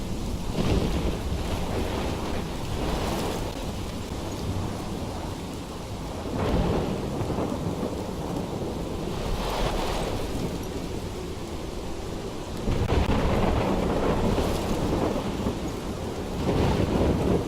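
A thunderstorm rages in the game Life is Strange: heavy rain and wind roar steadily while several deep thunder rumbles and cracks swell up at intervals, loud and close.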